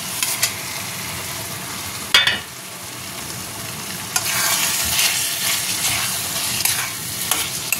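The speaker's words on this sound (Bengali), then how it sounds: "এই যে এগুলো সব কিছু দিয়ে কষছি" Spices with turmeric, chili powder and salt being stirred and fried in a pan for a Bengali chicken curry, a steady sizzle broken by sharp scraping stirs, close and loud, with no talking.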